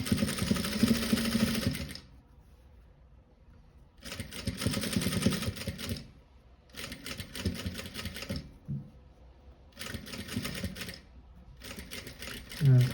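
A sewing machine stitches a stash pouch in four loud, rapid buzzing bursts of about two seconds each, separated by pauses, heard close up with a voice talking briefly between runs.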